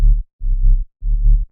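Three deep, clean sub-bass synth notes pulse in a steady rhythm, each held briefly then cut, heavy low rumble with nothing above it.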